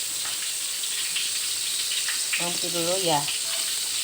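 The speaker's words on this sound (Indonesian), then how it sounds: "Nah, kita tumis bawang putih" Garlic sautéing in melted butter for a fish soup gives a steady, fairly loud sizzle throughout, with a brief voice speaking over it partway through.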